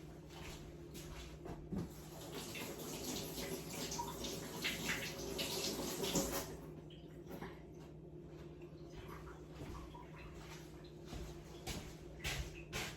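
An item is washed by hand under a running tap at a kitchen sink, water splashing and gushing faintly with a few soft knocks, quieter spells as the flow is interrupted, no talk.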